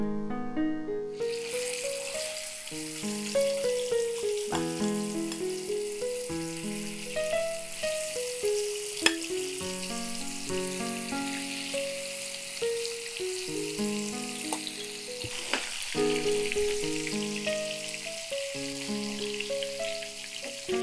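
Chicken roast frying in hot oil in a cooking-show kitchen, a steady sizzle that starts abruptly after a second and carries on beneath loud melodic background music.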